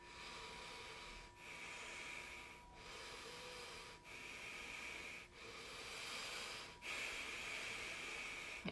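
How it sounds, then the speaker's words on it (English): Slow, steady breaths drawn in and let out through the nose during a guided meditation, a continuous airy hiss with a soft rhythmic swell roughly every one and a half seconds, close and unaccompanied by talk. "And breathing in through the nose,"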